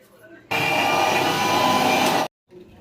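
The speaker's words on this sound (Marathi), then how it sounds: "आता तो एक तीन ते चार पाकळ्या लसणाच्या टाकून हे मिक्सरला बारीक करून घेणार आहे" A kitchen mixer grinder whirs loudly for about two seconds, grinding green chutney from green chillies and garlic cloves, then cuts off abruptly, with faint background sounds before and after.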